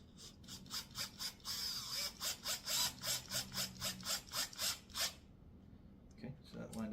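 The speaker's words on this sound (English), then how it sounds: "And we're just going to screw that down." A screw is driven by hand into a wooden kids' table during assembly, giving a close run of rhythmic ratcheting clicks, roughly a dozen strokes, then a few quieter handling knocks.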